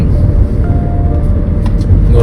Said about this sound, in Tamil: இங்கே ஒரு லாரி வந்து போச்சு.